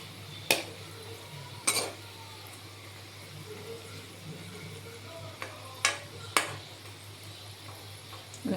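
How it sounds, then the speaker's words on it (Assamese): Dough pieces frying in oil that is not yet very hot, with a steady low sizzle and a few sharp clinks of a ladle against the pan as they are stirred. "এনেকৈ অকণমান ইলুটি শিলুটি কৰি এইখিনি ফ্ৰাই কৰিব লাগিব"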